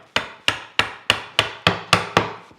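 A chisel is struck into wood at a marked gauge line while cutting a bridle joint, giving eight sharp, evenly spaced woody knocks at close range with nothing else heard.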